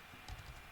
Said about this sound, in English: So let's again type in help